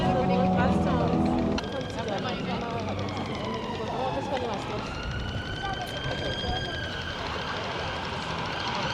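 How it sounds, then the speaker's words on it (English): An ambulance siren wails in Edinburgh, its rising and falling tones sweeping clearly through the middle of the stretch over a busy street hum, with a person's voice briefly heard near the start. "Ambulance."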